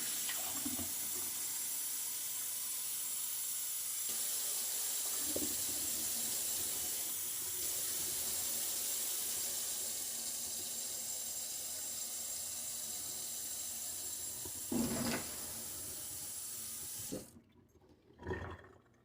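Cold water runs from a kitchen tap in a steady hissing stream for most of the span, filling cups with a few clunks before it shuts off and a final splash.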